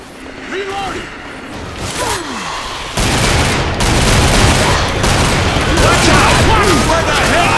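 Gunfire from the Left 4 Dead 2 video game: scattered shots at first, then a dense, loud barrage of rapid bursts with rattling weapon effects.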